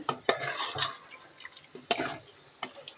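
A spoon stirs mutton curry inside a metal pressure cooker, making close scraping sweeps and sharp clinks against the pot in an uneven rhythm, with no talking.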